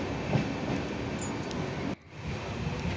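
The 12344 Express running from Sealdah toward Jalpaiguri, heard from inside as a steady rumbling, rushing carriage roar with a sudden brief dip near the middle before the noise resumes, no talk.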